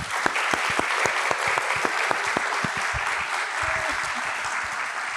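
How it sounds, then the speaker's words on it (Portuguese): An indoor talk-show audience claps in applause, with several sharp individual claps standing out over a steady mass of clapping. "Queria pedir uma salva de palmas"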